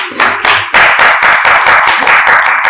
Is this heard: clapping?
yes